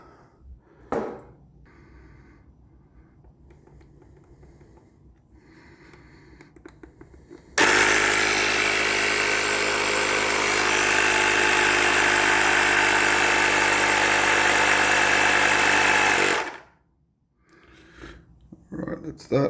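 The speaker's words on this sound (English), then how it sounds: "And I'll put some air in there. I'm only putting 40 psi in these." Air pumped into a larger electric skateboard tyre up to 40 psi, a loud, steady mechanical rush lasting about nine seconds, with quieter workshop sounds before and after.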